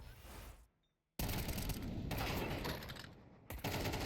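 AK rifle fire in a professional Counter-Strike match, rapid automatic bursts rattling in quick succession, broken by a brief silent gap before sustained firing resumes, with more shots crowding the end.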